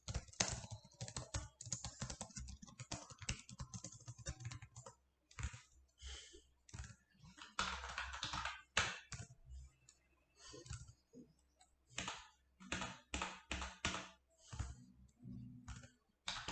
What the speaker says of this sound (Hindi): इसका एड्रेस फिलहाल मैं स्पीड से टाइप करता जा रहा हूँ।